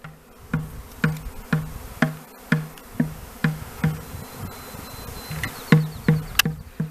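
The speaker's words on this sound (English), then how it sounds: "There's a massive cloud of bees around me." A honey bee swarm from a hive in northeast Tennessee buzzes around, with a dense hum under a regular series of sharp close ticks or taps repeating about every half second.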